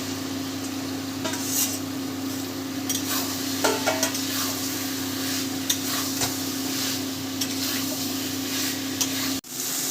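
Raw jackfruit is tipped into cooked spices and stirred, bringing soft sizzling and scraping against the pan over a constant low stove hum, ending with a sharp clatter.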